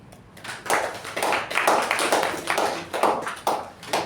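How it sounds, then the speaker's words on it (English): Applause from a group at a Toastmasters meeting, steady overlapping hand claps heard close and moderately loud throughout, without any voices over them. "Special round of applause to the person who chose that word."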